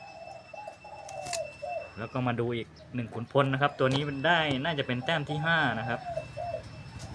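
A zebra dove coos softly at first, then someone talks at length while faint cooing continues beneath his voice.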